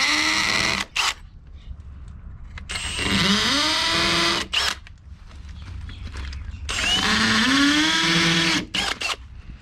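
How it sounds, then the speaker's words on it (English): A power drill bites into a brick wall to make small marking holes, whirring loudly in several bursts, each rising in pitch as it spins up and then stopping, with short quiet gaps between bursts. "we can take our drill and just create little markings on the back so that we can drill through"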